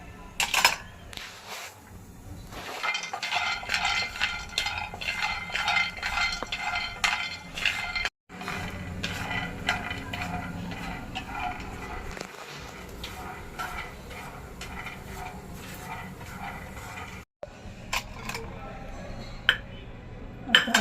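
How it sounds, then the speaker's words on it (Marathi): Peanuts roasting in a hot pan on a gas stove give a steady, close rattle and scrape as they are stirred, continuous for about twenty seconds with brief pauses and light clinks. "पॅन गरम करूया आणि त्याच्यात हे शेंगदाणे भाजून घेऊया"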